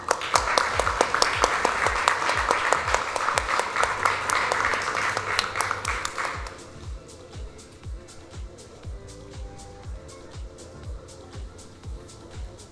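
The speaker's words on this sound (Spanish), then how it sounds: "Por favor, un aplauso para el doctor Alvarado" Audience applause for Dr. Alvarado, a sports medicine consortium founder, at an evening talk: dense clapping fills the first six seconds, then fades to scattered claps under a faint rumble.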